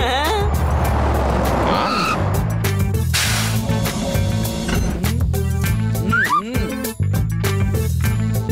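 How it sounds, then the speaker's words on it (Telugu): A cartoon bus rolls up with a whooshing engine, screeching tires and honks, all in a busy and exaggerated mix set against a music track, and voices come in over it. "బస్ వస్తోంది."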